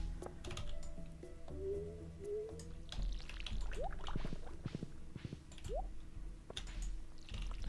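Watering crops in the Stardew Valley video game brings soft splashing and pouring effects over background game music and scattered light clicks, all fairly quiet.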